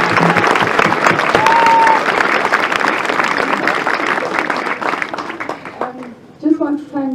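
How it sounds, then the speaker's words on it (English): Crowd applauding a Gaelic football team, St Colmcilles, at a Leinster junior club championship final, with dense steady clapping that tapers off as a voice starts speaking near the end. "a round of applause for St."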